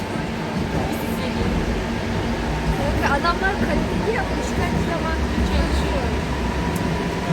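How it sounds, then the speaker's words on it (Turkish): An old Budapest metro train runs with a steady rumbling drone and occasional squeals, while people talk loudly over it close by. "En eski metrolardan birindesin şu an."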